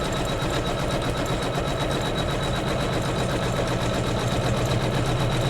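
An embroidery machine quilts fabric held on a hoop, stitching the inner border block of a Kimberbell pillow. Its needle hums in a steady, rapid, close drone that runs without a break and with no voices.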